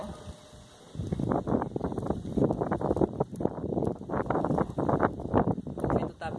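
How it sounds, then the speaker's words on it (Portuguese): Outdoor wind gusts buffet the microphone in loud, rumbling bursts that come and go for several seconds, with a quieter stretch at the very start. "O vento tá bem animado hoje."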